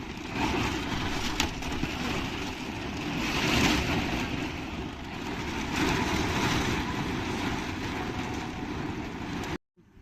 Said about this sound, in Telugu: ఎంత ఘోరంగా పడుతుందో వర్షం